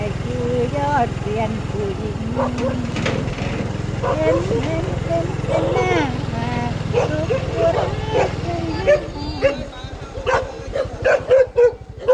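A dog barks repeatedly in a rural village after dark, its yips and barks rising toward the end. People talk over much of it.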